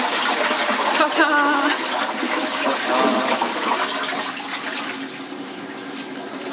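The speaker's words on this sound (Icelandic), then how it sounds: "ef maður sturtar niður að þá sem sagt fer vatnið hérna og lekur honni í vatnskassan" A Japanese toilet flushes and refill water runs into the tank, a loud gurgling rush that settles into steady trickling flow, with a brief spoken exclamation over it.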